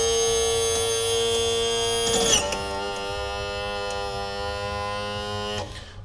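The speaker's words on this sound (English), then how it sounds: "Let me raise the motor back up because it is a ways down there." A Yamaha SHO outboard motor's power trim raising the engine: a steady, close electric motor whine with a buzzing hum, a brief clunk partway through and a stop near the end.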